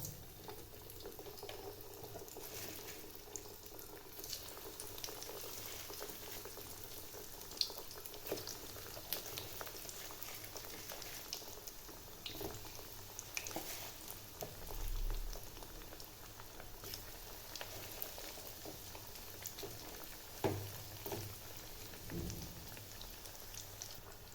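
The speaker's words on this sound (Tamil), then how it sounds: "எண்ணெய் நல்லா சூடு வந்துடுச்சு. இப்போ நகட்ஸை பொரிச்சு எடுத்துக்கலாம்." Vegetable chicken nuggets fry in hot oil, a steady soft sizzle and bubbling crackle that continues quietly throughout, with occasional louder pops and the odd clink.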